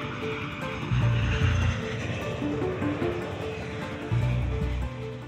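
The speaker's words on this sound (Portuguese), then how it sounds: "O B-47 levou Bill Allen a uma altitude milhares de metros acima da altitude de cruzeiro dos aviões de passageiros." A Boeing B-47 jet bomber in flight produces a steady, rumbling engine drone with a low tonal hum that swells and eases slightly throughout.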